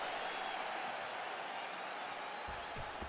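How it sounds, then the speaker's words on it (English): Crowd applause and cheering in a UFC video game simulation of a fight, a steady broad wash of clapping and crowd noise with low thumps near the end. "So the crowd voicing its appreciation after that round."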